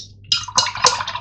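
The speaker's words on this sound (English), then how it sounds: "wash off my brush" A paint brush is rinsed in a water pot during a mixed media canvas craft, giving short splashy swishes and liquid sloshing in two or three bursts, close and moderately loud with no talk.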